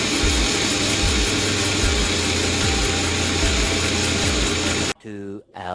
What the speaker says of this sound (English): I'm just going to drill as many as I can stand because drilling through saw blades is heck.